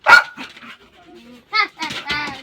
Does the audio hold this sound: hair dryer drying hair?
no